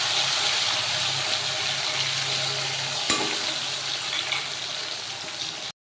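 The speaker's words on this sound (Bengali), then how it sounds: "মশলাটা সুন্দর করে আমি ভেজে নিব।" A ground paste of tomato, nuts, poppy seed, green chilli and ginger fries in a pan with a loud, close, steady sizzle and occasional stirring scrapes, cutting off abruptly at the end.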